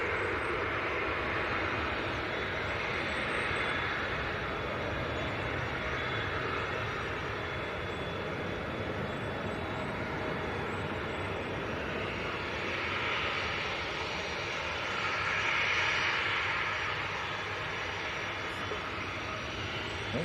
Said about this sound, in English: another Ryanair coming straight towards us. This one's going out to Warsaw. 738.